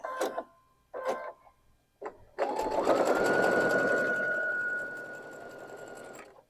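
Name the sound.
sewing machine sewing quilt block pieces right sides together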